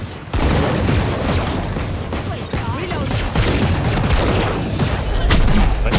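Video game combat with dense, rapid gunfire and repeated grenade blasts crackling and booming close by throughout, with a voice talking faintly underneath.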